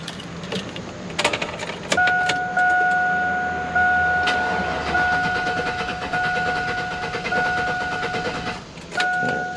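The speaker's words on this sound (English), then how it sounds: "Let's see if we can get it to start now." A car engine with a suspected fuel pump fault cranks repeatedly on a jump box but does not start, giving a steady mechanical churn for several seconds alongside a continuous high warning chime, close and loud with no talk.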